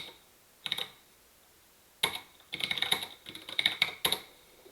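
Typing on a computer keyboard during a programming class, with a short burst of clicking keys, a pause, then longer runs of rapid, close, clattering keystrokes and no talking.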